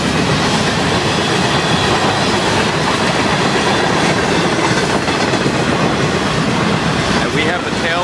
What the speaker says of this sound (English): Boy, this train is moving fast.